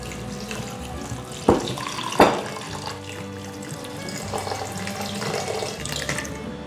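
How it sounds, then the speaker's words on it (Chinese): Tap water runs steadily into the inner pot of an electric rice cooker while two cups of rice are being prepared, with a couple of sharper splashes or clunks partway through. "放入电锅，加水加到水位2"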